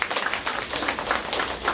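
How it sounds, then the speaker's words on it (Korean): A lecture audience at a Busan tourism organization claps together in a short burst of steady applause. "동의하시는 박수 한번 쳐보세요."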